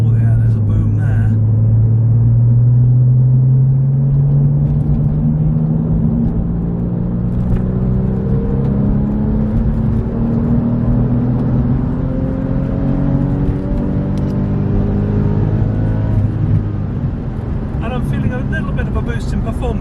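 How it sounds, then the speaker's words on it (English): A Porsche 996 with a valved exhaust climbs steadily through the rev range, its loud, deep engine note rising in pitch over nearly twenty seconds before easing off near the end, with occasional talk over the engine. "let's see what this sounds like as we go up the rev range again"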